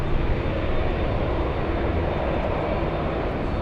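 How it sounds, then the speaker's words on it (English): Boeing 757 jet departing LAX, a loud, dense engine roar that stays constant throughout with no voices over it. "757 departure headed your way."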